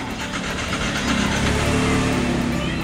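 A motorcycle with a faulty ignition lock, partly taken apart, runs its engine in a steady, loud drone that swells slightly partway through as the throttle opens.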